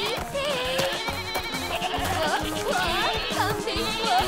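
A cartoon goat in a Barbie animal-friendship story bleats in wavering, repeated calls over lively background music.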